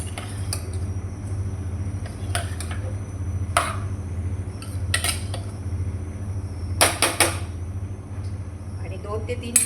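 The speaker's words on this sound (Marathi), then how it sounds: "आणि आता मी झाकण लावून घेते कुकरला." A metal lid is fitted onto a pressure cooker of spinach curry (palak rassa bhaji) in a home kitchen, giving a few sharp metallic clinks and clatters, the loudest cluster near the end, over a steady low hum.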